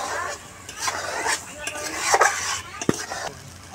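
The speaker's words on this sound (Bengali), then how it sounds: "এভাবে একটু নেড়ে দেব" A utensil scrapes and clinks against a cooking pot as cumin is stirred over a light sizzle, with irregular scraping strokes and a sharp metallic knock near the end.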